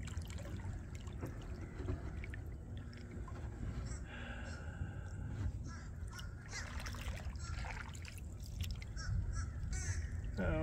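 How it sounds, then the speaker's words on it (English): Several crows cawing at a distance among dead trees over soft outdoor ambience and trickling water by a river, with a voice talking quietly at times. "There's all these crows in here."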